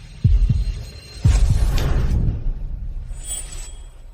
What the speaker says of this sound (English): Your heart's beating so fast.